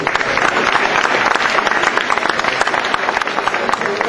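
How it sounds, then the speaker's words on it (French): Sustained applause from a crowd at an event in Cousolre, loud, dense and continuous clapping that fills the whole stretch without any break. "Donc vous pouvez applaudir ces deux citations."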